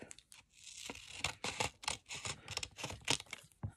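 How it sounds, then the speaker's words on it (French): Paper pieces being cut: a close, quiet run of rapid crisp snips and rustling strokes in an uneven rhythm, with no voices. "je coupe les morceaux"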